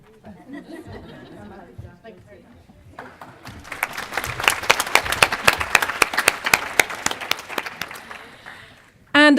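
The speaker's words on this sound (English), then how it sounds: "So round of applause to Tayside." Applause breaks out at an award ceremony, building from quiet chatter into loud, rhythmic clapping by a crowd that then fades, with talking before it and a burst of sound at the very end.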